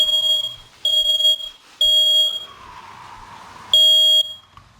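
Loud, high-pitched electronic beeps repeat in short bursts with brief gaps, a piercing kitchen smoke alarm set off while cooking mangrove red snapper, sounding close by.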